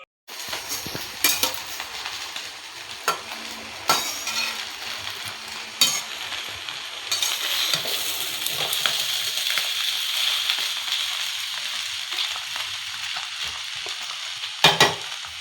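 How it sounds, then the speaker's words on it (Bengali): Chow mein sizzles and fries in a pan while a utensil stirs and scrapes through it, with sharp clanks of metal on the pan at intervals over a steady hiss. "এই যে চাউমিন হচ্ছে"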